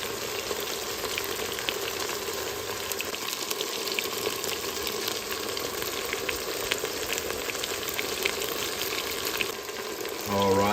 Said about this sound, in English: We're just gonna get it browned on both sides.